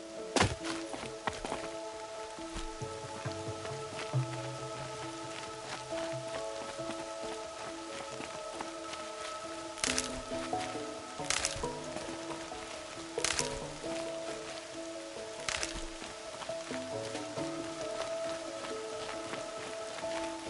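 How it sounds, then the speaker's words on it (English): Rain falls in Horizon Zero Dawn, a soft continuous patter over sustained musical tones, broken by several sharp thuds and knocks scattered through the stretch, with no talk. "More rain."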